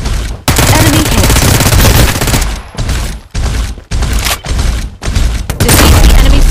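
Loud, close assault rifle fire in a video game, rattling out in long sustained bursts that are broken by short pauses.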